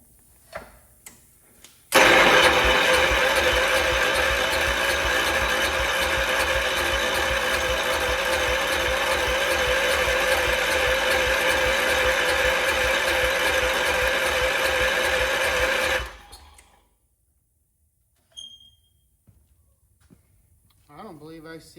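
The engine of a Wheel Horse C-125 garden tractor is cranked over by the starter, a steady rhythmic churning that runs for about fourteen seconds without catching, then stops and leaves quiet workshop sounds.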